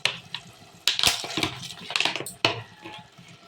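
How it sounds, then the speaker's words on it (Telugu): Water poured into a pan of egg and tomato curry: brief splashing and clinking bursts at close range, with scraping and stirring between them and no talk. "కొంచెం నీళ్ళు పోసుకుంటున్నాం"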